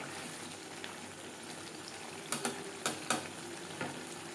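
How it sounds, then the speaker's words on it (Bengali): Coriander leaves and garam masala are stirred into bhetki fish frying in oil, giving a faint steady sizzle with several sharp scraping knocks of the spatula partway through. "ধনেপাতা কুচি, ধনেপাতা ও গরম মশলা পাউডার মাছের তেলের সাথে বেশ ভালো করে মিক্সড করে দেবো"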